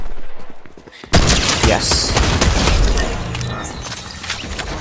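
Slow-firing weapon in an online shooter match, a few spaced shots and a loud burst of gunfire after a quiet start, with a person briefly speaking over it.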